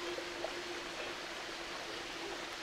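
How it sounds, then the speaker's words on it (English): Running water flows in a steady, even hiss with no breaks, a constant, fairly quiet stream-like rush heard alone. "sound of that running water"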